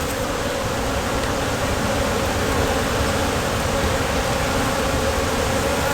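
Honey bees swarm around a hive frame while a brood box is being added, making a dense, continuous buzzing drone that stays close and steady throughout.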